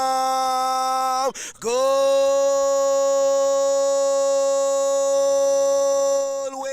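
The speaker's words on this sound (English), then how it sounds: "Ring the" Goal alarm sounding at a football match, a loud sustained electronic horn tone that cuts out briefly, restarts and holds steady for several seconds, with no talk over it.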